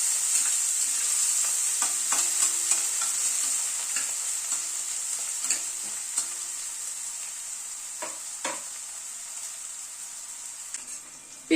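Chopped onions fry in a pan over a medium flame, giving a steady close sizzle throughout, broken by occasional scrapes and stirring taps, with no talk.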